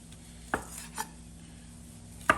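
Three sharp knife strikes on a cutting board, spaced unevenly and fairly close, over a steady low hum in a quiet kitchen.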